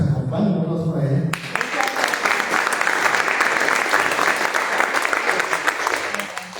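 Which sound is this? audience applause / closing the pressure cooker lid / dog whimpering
audience applause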